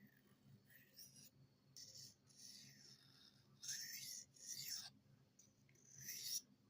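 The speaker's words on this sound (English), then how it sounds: "This is a Falconeven sharpening stone." A blade is stroked across a Falconeven sharpening stone in soft, close, rasping passes, several uneven strokes of gritty scraping over quiet background hum.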